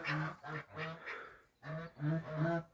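Ducks kept by a smallholder call in a series of close, nasal honking quacks, five or six bursts with short gaps, loud and alone with no talk.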